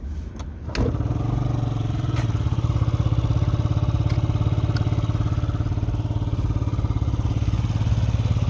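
A Yamaha Jog SA36 scooter engine idles steadily and loudly after a brief start, its low putter rumbling continuously with no talk.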